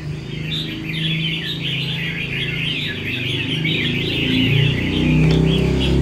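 A red-whiskered bulbul (chào mào) sings a steady run of bright, warbling chirps and trills, fairly close and clear over a soft low background hum.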